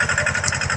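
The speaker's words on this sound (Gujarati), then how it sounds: "ટ્રેક્ટર સાથે બોધી દીધી છે અને ખરપવાનું ચાલુ છે." A small tractor engine drags a hoe through a groundnut field, its steady, rhythmic low throb loud and close, with no one talking for the short span.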